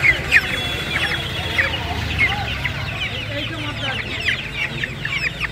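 Australorp chicks about five weeks old clucking and cheeping at a poultry market in Uluberia, repeated calls over a busy background with voices nearby.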